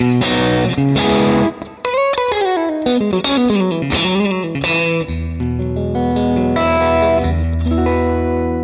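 Electric guitar played through a Valeton GP-200 processor with EQ switched on, giving a bright, effected lead tone: quick melodic runs and sustained notes, close and loud with no voices.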